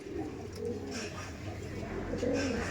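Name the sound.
pigeons cooing, male and female pair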